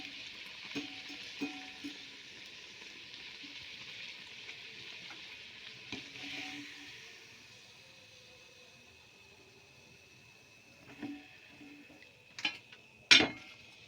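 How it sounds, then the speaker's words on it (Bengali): Pumpkin luchi, a puffed flatbread, frying in hot oil as a steady sizzle that runs through the whole stretch, broken by a few soft utensil clinks and one sharp metallic knock near the end. "এইভাবে সব লুচিগুলো ভেজে নেব।"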